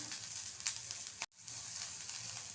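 Chopped large onions frying in hot lemon-flavoured oil for a Salem thattu vadai set topping, giving a steady close hiss with a couple of brighter crackling pops and a brief dropout midway.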